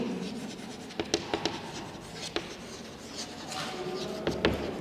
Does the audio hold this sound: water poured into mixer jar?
no